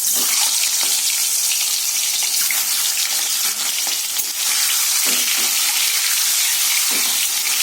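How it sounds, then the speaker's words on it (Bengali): An egg fries lightly in hot oil, giving a dense, loud, unbroken sizzle with a few faint clinks of a utensil. "ডিমটা আমি হালকা ভাজবো, একটু কড়া করবো না।"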